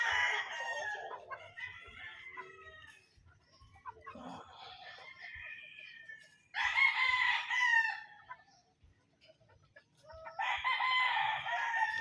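A mature Raptor Sweater gamefowl rooster crows repeatedly on a gamefarm, with several loud, strained crows separated by short pauses and softer clucking in the quiet gaps.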